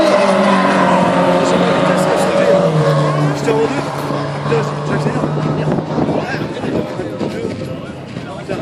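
A Peugeot 205 race car, number 158, roars through a Fol'car auto race in Mayenne, its engine note steady and then shifting pitch, close by and loud under excited commentary.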